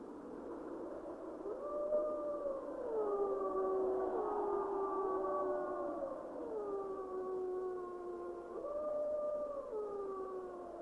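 Several timber wolves in northwestern Canada howl together in a long chorus of overlapping, gliding tones that rise and fall over a faint background hiss.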